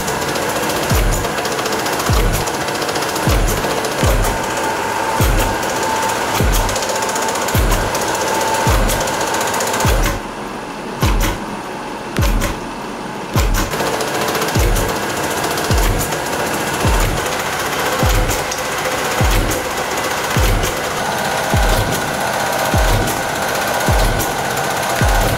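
A homemade rotary subwoofer spins its blade, a loud rhythmic pounding thump repeating roughly every second with a constant rattling buzz, briefly easing off midway before resuming, no voices.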